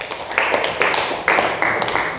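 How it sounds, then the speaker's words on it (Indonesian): A classroom of students clapping together in a rhythmic pattern, with several loud bursts of massed claps in quick succession. "tepuk tangan"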